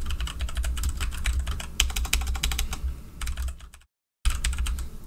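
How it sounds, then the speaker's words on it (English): Fast, steady clacking of a computer keyboard being typed on nearby, dense rapid keystrokes that stop briefly for a moment of silence near the end before resuming, with no talk. "I gotta get used to the keyboard,"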